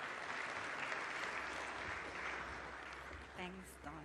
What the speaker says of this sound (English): Please, big round of applause. Welcome her on the stage.